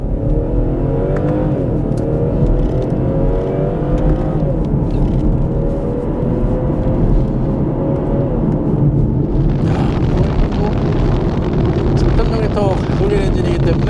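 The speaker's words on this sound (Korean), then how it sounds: "이 상태에서 이 패들 시프트 변속을 해서 한번 달려보도록 하겠습니다." A BMW 640i xDrive M Sport with a gasoline engine pulls away in S mode under paddle shifts, its engine droning and rising through the gears as close, steady cabin sound, with a voice talking over part of the run.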